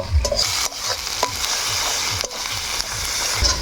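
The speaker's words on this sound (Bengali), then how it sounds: "আমরা কিন্তু মশলা খান বেশ খানিক্ষণ ধরে ভালোভাবে কষে নিয়ে" Spices stir-fried in a pan, rhythmic spatula scrapes over a steady sizzle, close up and regular.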